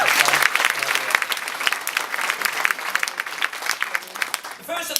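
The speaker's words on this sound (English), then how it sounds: "A round of applause for those judges." An audience at the 2017 New Zealand Museum Awards ceremony applauds the judges, with dense, sustained clapping that swells and carries on for several seconds before tapering near the end.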